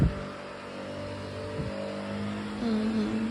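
A leaf blower's steady motor drone clears leaves and debris off a mini putt course, holding an even hum with a short surge near the end and no talk.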